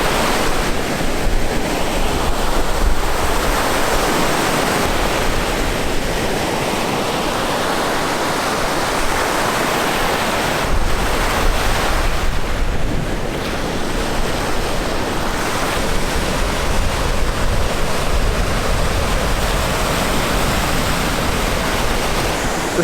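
Strong wind and heavy waves on Lake Superior, a steady loud roar of surf and gusting wind filling the whole stretch, with no voices.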